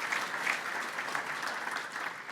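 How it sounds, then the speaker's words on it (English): A round of applause for Chamber staff at a 2019 State of the County Address, a dense steady clapping from a seated crowd that holds evenly throughout. "A big round of applause."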